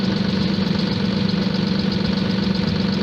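A tractor engine idles steadily in the snow with a constant low hum and a faint knocking rhythm throughout, close and continuous with no talking.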